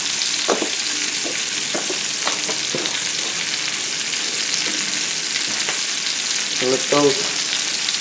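Cremini mushrooms, about eight ounces, sizzle steadily in a hot pan for coq au vin, a constant bright hiss broken by a few soft clinks and scrapes of stirring, with a brief spoken word near the start.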